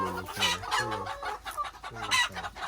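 Chickens cluck repeatedly at a farm stay, close and fairly loud, in short uneven bursts with a rooster-like call mixed in; no speech is heard.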